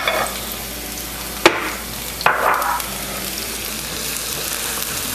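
Chopped onion and garlic soften in a tablespoon of warm olive oil in a pan, giving a steady soft sizzle with a couple of sharp clinks from stirring, close by and without talk.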